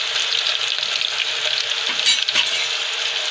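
Chopped onions hit hot oil in a frying pan for khichdi, giving a loud, continuous crackling sizzle with bright spitting pops, briefly intensifying near the end as they are stirred.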